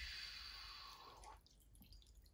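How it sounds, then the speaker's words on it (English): Water poured into a container, a steady pouring rush for about a second and a half that tapers into a few faint drips and trickles, close and fairly quiet. "I'm going to take some water and I'm going to pour it in here"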